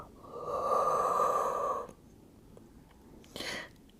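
A strong, steady exhale during a beginner Pilates exercise, close and breathy for well over a second, followed after a pause by a shorter sharp breath.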